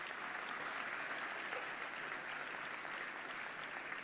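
A live event audience in India applauds a speaker being welcomed to the stage: a soft, even wash of many hands clapping, heard at a distance and fairly quiet throughout.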